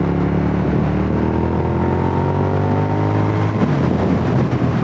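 A 2004 Suzuki SV1000 motorcycle accelerates hard through the gears, its engine note climbing in pitch, dropping at each shift and then rising again, loud and close, with no voices.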